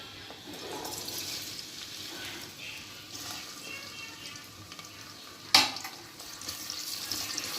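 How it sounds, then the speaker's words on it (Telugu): Onions frying in oil for a Rayalaseema-style mutton curry give a soft, steady sizzle with light stirring scrapes and one sharp clink of a utensil midway. "కొంచెం వేడెక్కాక మనం ఆనియన్స్ వేసి గోల్డెన్ ఫ్రై అయ్యే వరకు వేడి చేసుకున్నాము"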